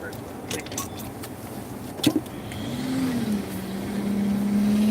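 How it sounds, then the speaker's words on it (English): A car nearby on a street, its engine a steady low hum that rises and grows louder toward the end, with a brief clunk or knock midway and faint background murmur. "What is up with that car over there?"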